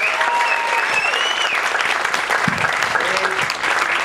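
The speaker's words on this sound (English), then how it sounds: "Would you please give him a nice round of applause" An audience claps steadily in a sustained burst of applause, filling the room, with a few voices and cheers mixed in.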